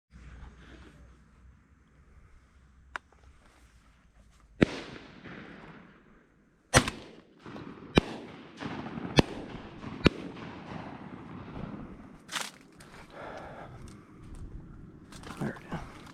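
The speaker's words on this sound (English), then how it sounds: "I don't know what they're shooting at" Distant shotgun shots during a South Georgia dove hunt, several sharp isolated reports spaced seconds apart across an open outdoor field, with quiet background between.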